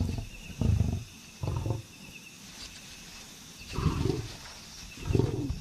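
Male lions roaring in the wild, four deep, heavy bursts spaced a second or two apart with rumbling low grunts, over a steady background of insects and faint birdsong.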